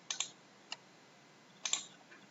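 A few sharp, quiet computer mouse clicks in quick pairs separated by short pauses, with no voices.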